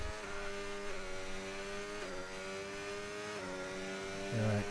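Aston Martin race car engine in a racing video game at Belgium: a steady high-revving drone with gear changes shifting pitch, sustained and loud, with a brief growl toward the end.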